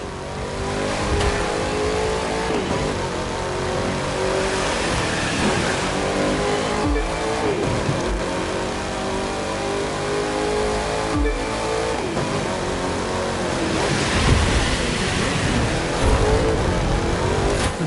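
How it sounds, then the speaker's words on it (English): A sleeper car in The Crew 2 accelerates hard, its engine revving loud and close through repeated rising pulls with a rushing roar under them, and nobody speaks. "That car's really moving."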